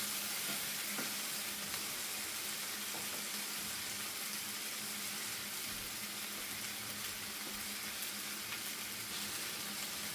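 Green chiles for salsa fry in a pan with a continuous, dense sizzle and hiss that stays level and fairly loud from start to finish.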